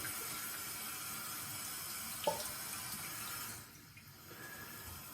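Water from a tap runs steadily over a razor being rinsed, a faint even hiss with a brief clink partway through before the flow softens near the end.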